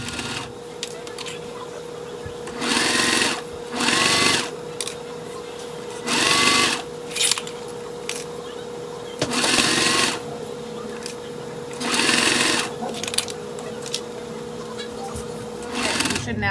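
Domestic sewing machine stitching binding onto the lining of a circle bear bag gusset, running in short bursts of about a second with pauses between, close and steady, over a constant background hum.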